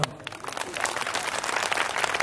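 Crowd applause at a sholawat religious gathering in Tulungagung, a thick wash of many hands clapping continuously for a couple of seconds, loud and close, with faint voices mixed in.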